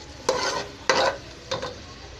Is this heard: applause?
no